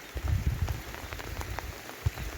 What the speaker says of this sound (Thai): ฝนตกแล้วเปียกแล้ว